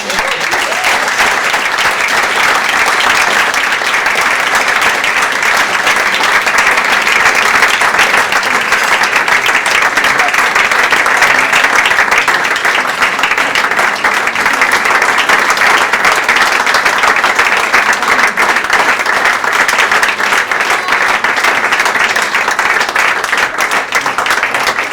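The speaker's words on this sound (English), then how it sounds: "Let's give them all a round of applause." Wedding guests applauding after a reception speech, a loud, sustained wave of clapping from a full room that stays dense and even for the whole stretch.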